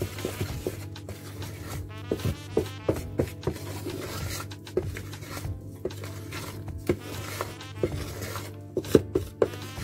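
Apple cake batter with grated apple being mixed by hand in a bowl, giving soft, quiet scraping and tapping strokes at an uneven rhythm over a low steady background hum.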